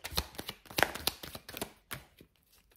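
Tarot cards shuffled by hand, a short run of close, soft papery flicks and taps, irregular and fairly quiet, with no talking.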